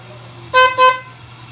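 A car horn gives two short, loud honks in quick succession over a low steady engine hum.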